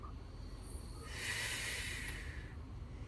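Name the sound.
breathing in and out during Pilates exercise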